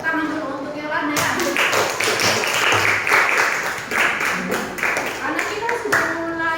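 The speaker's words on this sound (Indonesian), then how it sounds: "tepuk tangan dulu untuk Yolanda ya" A classroom of students claps for Yolanda, a burst of many hands applauding together that starts suddenly and carries on for several seconds, with voices mixed in under the clapping.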